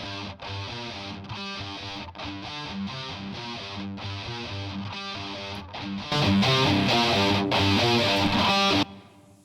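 An unprocessed rhythm guitar part from a Dragon Ball Z dragon theme plays a steady chugging pattern with regular chord strokes and brief gaps, then grows louder and brighter near the end before cutting off.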